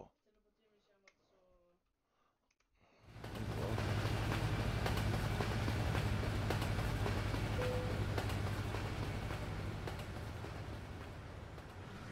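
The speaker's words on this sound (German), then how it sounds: "Oh, ich höre einen Zug." A passing train rises abruptly out of near-quiet into a loud, steady broadband roar and rumble that holds for several seconds, with a faint voice before it starts.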